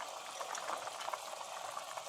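Water at a rolling boil in a pot of curry, a dense continuous bubbling and hissing at close range with no one talking.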